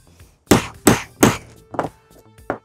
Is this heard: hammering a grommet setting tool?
yes